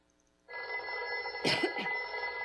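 A telephone bell rings in a live radio drama, two bright jangling bursts over a steady electronic hum, fairly close and clear with no talking.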